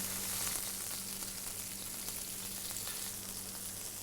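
Steady, close sizzling and crackling of lamb loin with garlic searing over high heat in a hot pan, continuous throughout with a faint low hum underneath.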